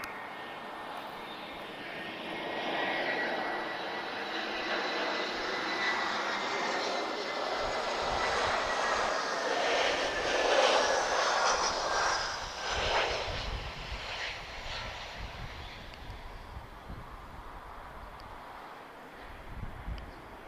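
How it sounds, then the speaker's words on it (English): An EasyJet Europe Airbus A320-214 arriving from Funchal, Madeira roars steadily through its landing at Lisbon Airport, a broad, loud engine rush that swells near the middle and then slowly eases off, with no voices over it. "She's about to arrive from Funchal, Madeira. This is an A320-214."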